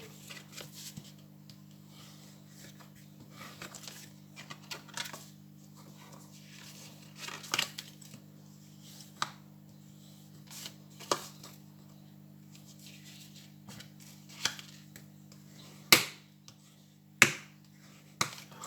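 A card punchboard presses fold lines into paper for a festive-table cutlery holder, with sporadic crisp taps and snaps, a few sharper near the end, over a low steady hum.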